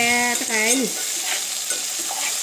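Okra pieces stir-fry in a hot pan, giving a steady close sizzle with soft scraping stirs. A brief voice sounds at the start.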